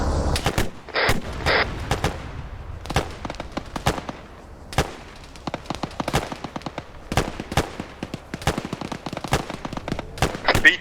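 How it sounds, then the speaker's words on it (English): Dense rapid gunfire from a convoy ambush in the video game Arma 3, bursts and single cracks stacking loud and close for the whole stretch, a few voices faintly underneath. "When they start to slow down, please. Open fire."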